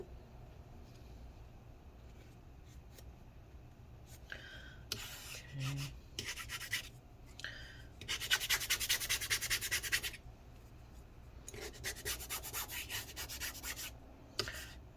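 Intermittent scrubbing and rubbing on a 2012 15-inch Retina MacBook Pro A1398 as residue is wiped off with rubbing alcohol, coming in short bursts and longer strokes against a quiet background.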